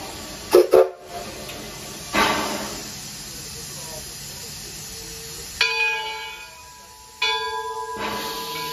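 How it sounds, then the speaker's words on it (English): Steam train whistle blasts signalling the air brake is set, a few separate tonal whistle sounds with hiss, moderately distant, among outdoor ambience and a brief bell-like clank early on. "The engineer will give a blast with the whistle, meaning the air brake is set."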